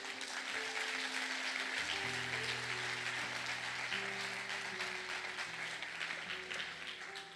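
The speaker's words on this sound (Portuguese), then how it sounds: "Em nome de Jesus, aplauda o Senhor." A church congregation applauds in a steady, sustained wash of clapping, with organ or keyboard chords held underneath throughout.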